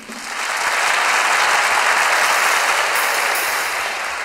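An audience applauds to act as an applause meter at a comedy talk show, a dense, steady wash of clapping that swells quickly, holds loud and even for several seconds, then eases slightly.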